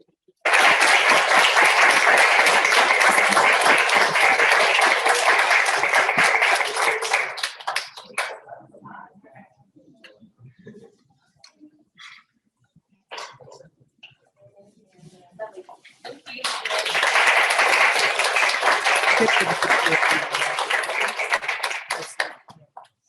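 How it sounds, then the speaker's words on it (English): At a university changemaker celebration, an audience bursts into dense applause for about seven seconds, falls to scattered claps and near-silence, then breaks into a second long round of clapping. "Please give a round of applause."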